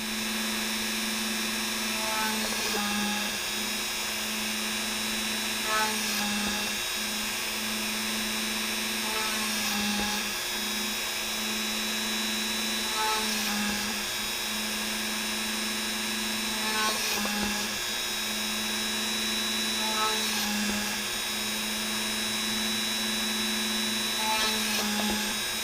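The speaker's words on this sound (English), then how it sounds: "I'm going to come over here and drill them out. And I just use that with my Dremel" A Dremel rotary tool whines steadily while drilling holes in a Kydex holster, its pitch dipping in regular pulses as each hole is bored, close up and with no talk.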